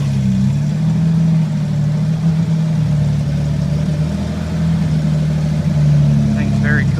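A 1956 International Harvester S-160 school bus engine runs with a steady low rumbling idle throughout, close and continuous, while a person talks over it.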